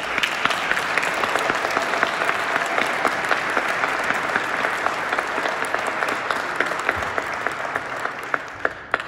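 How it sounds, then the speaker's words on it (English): Sustained applause from a church congregation after a first Holy Communion Mass, dense steady clapping filling the room for the whole stretch at moderate loudness, with no talk over it. "I think we can give you a round of applause"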